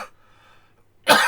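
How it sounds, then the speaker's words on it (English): A single person coughs sharply once near the end, a short harsh burst after a moment of near silence in a quiet indoor room. "Sorry, I have to cough again."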